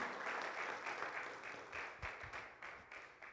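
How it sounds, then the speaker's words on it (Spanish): Congregation in a church applauding to praise God, a sustained crowd of clapping hands with a few sharper individual claps near the end, steady and moderately close. "No sé si puede darle aplauso al Señor, hermano."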